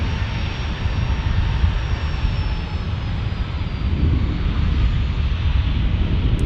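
A Boeing 767-300 freighter bound for El Paso roars at San Diego airport, its jet engines a loud, steady broadband rumble with a faint high whine, close and continuous without voices.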